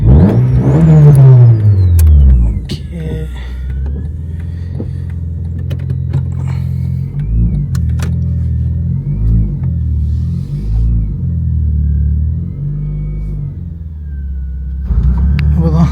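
A Honda Civic engine hums and revs from inside the moving car, loud and close, rising and falling through gear changes with a steady underlying rumble throughout.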